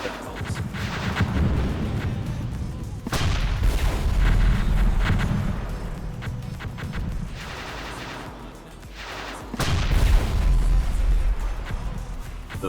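Merlin MIRV launchers firing in the strategy game Zero-K, heavy booming volleys in bursts, loud and rumbling, with long rolling blasts and brief gaps between.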